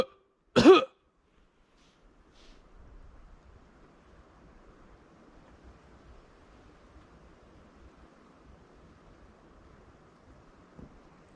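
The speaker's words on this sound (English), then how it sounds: "I'm gonna fake cough" One loud, deliberate cough rings out at the start, followed by a long stretch of faint wind-like rushing noise.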